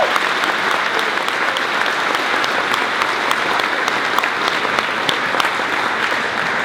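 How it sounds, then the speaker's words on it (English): A school welcome-assembly audience gives the students sustained applause, a dense, even clapping that stays loud and steady from start to finish. "So I think the students deserve another round of applause."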